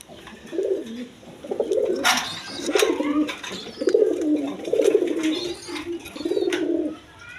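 A pair of pigeons, a hen with eggs and a cock, coo in repeated soft, throaty bursts close by, with short pauses between calls and a quiet backdrop.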